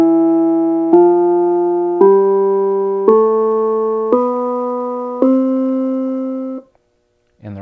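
Piano playing a major scale with one hand, seven evenly spaced single notes stepping upward about once a second, each struck clearly and decaying, followed by a short pause and a faint final sound.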